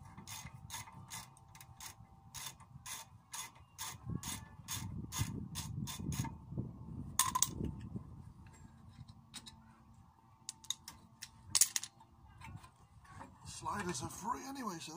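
A hand ratchet backs out the last bolt on a Ford Transit brake caliper carrier: a long, regular series of crisp close clicks, then scattered metallic taps and clanks as the part loosens, with a voice faintly in the background.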